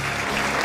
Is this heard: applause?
yes